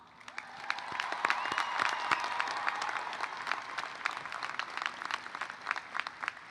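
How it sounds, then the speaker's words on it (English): A graduation commencement crowd at CSUN applauds families and friends, many hands clapping in a broad, sustained ovation that swells quickly, then thins into scattered claps, moderately distant in a large venue. "let's celebrate your families and friends with a very big round of applause"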